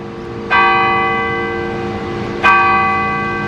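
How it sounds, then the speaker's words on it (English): Church bell in a small Pennsylvania town tolling the hour, two loud ringing strikes about two seconds apart, each with a long humming decay that carries over into the next. "I await for the chiming of the bell."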